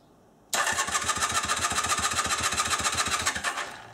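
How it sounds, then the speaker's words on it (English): A motorcycle engine cranking over, a rapid steady chugging that starts abruptly and runs for about three seconds before tapering off, close and loud. "now we'll crank her over and see what happens"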